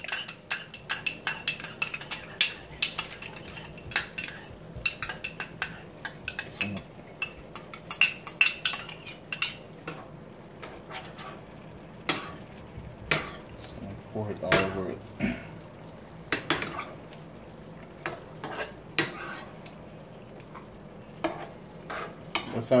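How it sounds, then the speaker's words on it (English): A utensil stirs coconut milk through a pot of Jamaican steam fish and okra, giving soft irregular scraping and occasional clinks of metal against the pan over a faint sizzle, with a voice talking now and then. "just gonna take up some of the coconut milk. I just kind of mix it around and just put it back."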